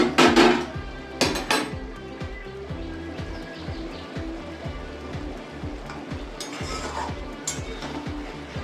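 A pot lid lifts off with a clatter over boiling potatoes, followed by scraping and clinking of a spoon stirring inside a metal pot, steady bubbling continuing underneath.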